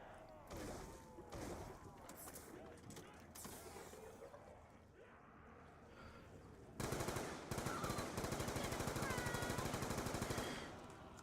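Machine gun fire in Call of Duty Die Rise zombies mode at round 100 comes as rapid, sustained bursts, first mixed with game effects, then a steady, louder unbroken stream of shots toward the end.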